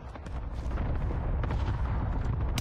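Bursts of gunfire in a Fortnite-style shooter game crack and boom in a rapid, dense string of shots that sound like a battle, fairly loud and steady over a short stretch.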